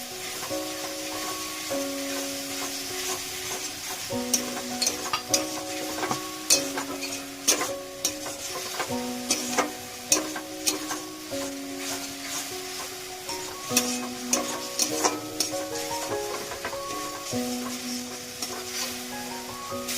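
A tomato spice paste sizzles in a pan while a spoon repeatedly scrapes and stirs it, with soft music playing underneath.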